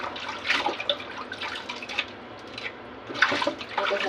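Vegetables are washed under running water for fried rice, giving continuous splashing and trickling with uneven drips and surges close by.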